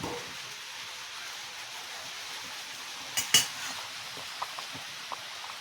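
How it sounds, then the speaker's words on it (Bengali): Boiled vegetables stirred in a cooking pot for khichuri, a faint bubbling background broken by a few brief metallic clinks and scrapes of a spoon against the pot, with no voices. "একটু নেড়ে দেব।"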